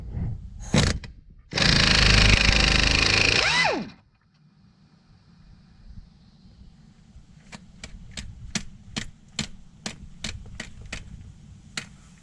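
A power tool loosens a brake line bolt on a 2003 Subaru Outback. There is a loud close burst of whirring and hammering for about two seconds, then a run of sharp separate clicks.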